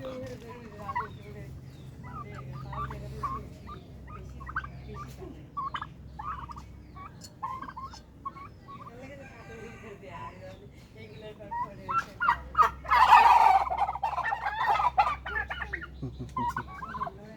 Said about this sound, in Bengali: টার্কি মুরগি এগুলো